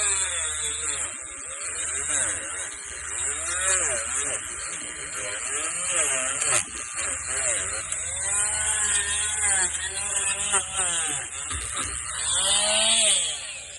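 A buzzing Dremel Multi-Max oscillating multi-tool cuts steadily through a tree root, with a harsh vibrating whine that wavers in pitch as it works, alongside occasional voices.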